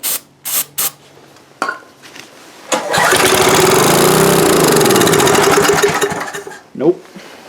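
A Coleman Powermate 5HP generator engine that seems to be starving for fuel: a few short bursts and clanks, then the engine catches and runs loud and close with a rough, buzzing drone for several seconds before cutting out, followed by a brief noise.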